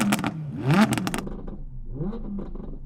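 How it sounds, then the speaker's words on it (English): An Audi TT RS-R with a turbocharged five-cylinder engine and a new exhaust revs sharply twice, a loud rising bark with crackling, then a shorter second blip that settles into a rumbling idle. "this 5-cylinder, even though it's a turbo, that's a wicked noise"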